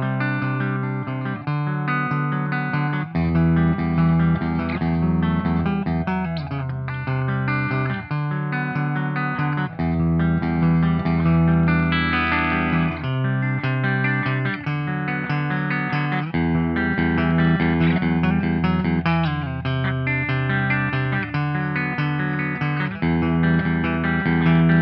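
Clean-toned Gibson and Epiphone electric guitars play chords and picked notes with a bright, steady tone. The playing runs continuously with regular chord changes, fairly loud, with no talking.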